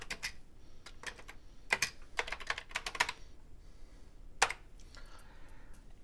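Keys on a Commodore 64 keyboard are typed in irregular bursts of close, crisp clicks while a short program is entered, with a few louder keystrokes and pauses between.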